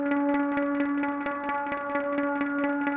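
ARP Enclave patch on the Diva software synthesizer, a bright, sustained tone pulsing rapidly in an even arpeggiated rhythm, steady and loud with no other sounds.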